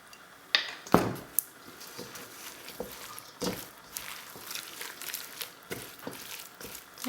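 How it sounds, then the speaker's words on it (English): Pulled pork is stirred together with barbecue sauce, giving soft, wet squishing scrapes and a few sharper clinks of a utensil against the dish, irregular and close, fairly quiet with no talk. "I'm gonna add some of the Suckle Buster's original sauce to it. I'm just gonna stir this in."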